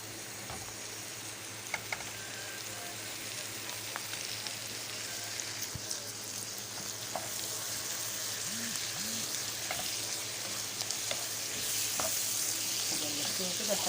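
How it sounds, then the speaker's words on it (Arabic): Meat frying in a pan over caramelized onions that were cooked with a spoon of sugar and spices, giving a steady, moderately loud sizzle with a soft crackle throughout and no talk over it. "اللحمه دي بقى هنزل اللحمه."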